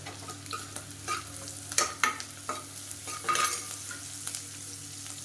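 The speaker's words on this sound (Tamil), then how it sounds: "இதை நல்லா வதக்கிக்கலாம்" Green chillies are sautéed in a pan, with a soft continuous sizzle under repeated spoon scrapes and taps as they are stirred. The scraping comes in uneven bursts, close and moderately loud, with no talking.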